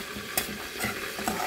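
Seasoned flour and garlic being stirred in a frying pan, a close scraping of the utensil with a few sharp strokes over a steady soft sizzle.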